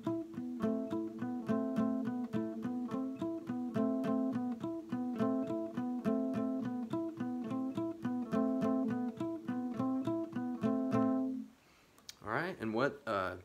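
Acoustic guitar playing an intro: steady, rhythmic strummed and picked chords repeating close up for about eleven seconds, then a brief pause and a different strum at the end.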